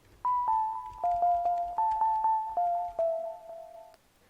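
Bell tones from the Steinberg Hypersonic 2 software instrument ring out in a steady melodic sequence, each struck note decaying smoothly into the next, clear and close with no voices.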